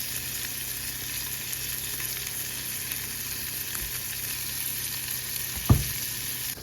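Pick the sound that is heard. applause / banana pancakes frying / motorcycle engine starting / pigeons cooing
banana pancakes frying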